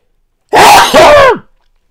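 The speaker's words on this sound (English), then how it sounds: "I'm going to sneeze." A single loud, close sneeze bursts out in two quick vocal parts, then silence.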